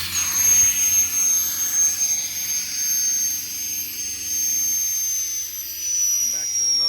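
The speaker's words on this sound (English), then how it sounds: "Come back to the remote, turn the compressor off." IMT 3820 hydraulic compressor running on a Ford F550 service truck, a steady mechanical hum with a high-pitched whine, moderately loud and constant, and a voice speaking over it.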